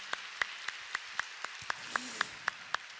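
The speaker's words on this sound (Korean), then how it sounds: "큰 영광의 박수로 한 번 더 주님 찬양하겠습니다." A church congregation clapping together in a steady, even rhythm, sharp claps repeating about four times per second, with faint voices underneath.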